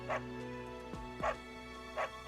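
A dog in a Nintendo game gives three short, evenly spaced yips about a second apart over a quiet game soundtrack, and no one talks.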